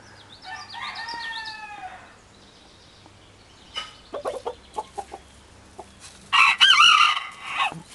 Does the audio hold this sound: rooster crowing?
yes